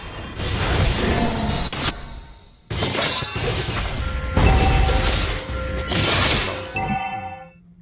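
A structure is destroyed in the mobile game Mobile Legends: Bang Bang, with loud, dense crashing bursts that repeat in several waves and keep an echoing rumble before fading out at the end.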